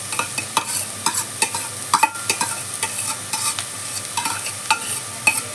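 Grated carrot is stirred into onions frying in a pan, with repeated scraping stirs at an uneven rhythm over a soft, continuous sizzle, close up.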